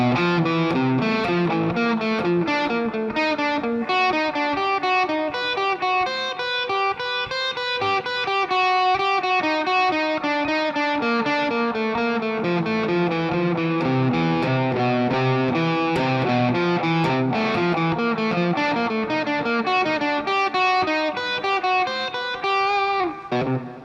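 Guitar working slowly through a fretboard finger pattern with turnarounds, a steady run of single notes with a driven, slightly distorted tone, continuous and close for the whole stretch with no talking.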